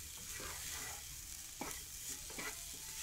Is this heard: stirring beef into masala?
yes